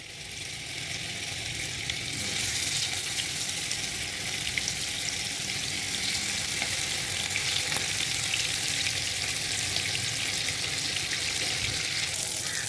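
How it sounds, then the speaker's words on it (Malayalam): Fish fries in hot oil in a pan, giving a loud, continuous close sizzle with crackling spatter that holds steady throughout, without speech. "ഓയിലൊന്ന് ചൂടായി വന്നിട്ടുണ്ട്. നമുക്കതിനകത്തേക്ക് നമ്മുടെ മീനിട്ട് കൊടുക്കാം."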